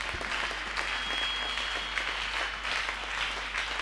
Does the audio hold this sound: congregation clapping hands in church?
yes